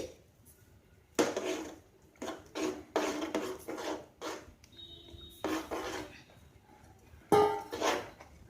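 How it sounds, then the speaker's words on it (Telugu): Flour stirred into boiling water in a pot for a Telugu flour curry, with intermittent scraping and clinking strokes of a spoon against the pot in short bursts and brief quiet gaps between them. "పిండి వేసుకుంటూ కలుపుకోవాలండి"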